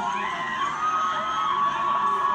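Crowd cheering and whooping at a live event, heard through a played video as a steady, dense roar of many voices with shouts rising above it, no clear applause, lasting the whole moment.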